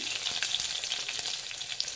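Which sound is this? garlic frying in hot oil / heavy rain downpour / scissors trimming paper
garlic frying in hot oil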